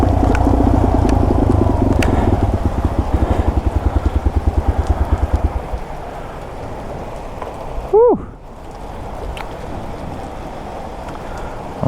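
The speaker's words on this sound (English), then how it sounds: "I'm getting pelted with the hail now" Hail pelting down on a rider next to a Yamaha TW200 motorcycle outdoors, a loud dense continuous patter with the bike's engine idling in a steady throb at first, then fading, plus a brief whoosh.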